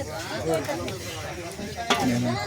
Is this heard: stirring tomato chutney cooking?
yes